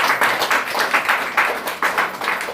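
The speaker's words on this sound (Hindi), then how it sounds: "ताली बजाइए जोर से" An audience claps loudly and steadily at a Christmas sermon, with dense, rhythmic hand claps swelling in bursts and no voices over them.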